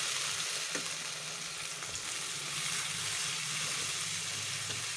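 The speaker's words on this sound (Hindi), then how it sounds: "मसाले को बहुत अच्छे से फ्राई करना है" Masala with tomato and cumin fries in a pan for keema jalfrezi, giving a dense, steady sizzle with faint scrapes of stirring.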